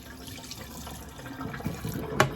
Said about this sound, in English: you clean and drain all the water out